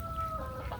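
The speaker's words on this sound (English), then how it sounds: "the goose" A goose gives a short, loud honking call nearby, a single brief cry standing alone without talk.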